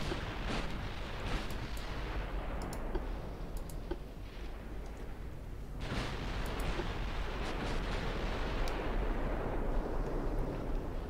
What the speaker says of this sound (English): My torpedoes are hitting stuff.